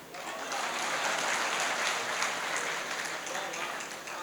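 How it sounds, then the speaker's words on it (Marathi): An audience at a Marathi poetry gathering breaks into sustained applause, a dense wash of many hands clapping that swells quickly, holds for several seconds and then tapers slightly. "वाजवा टाळ्या."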